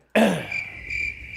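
Crickets chirping as a comedic sound effect: a sudden onset settles into a steady, high, shrill trill that carries on unbroken and fairly loud, with no talk over it.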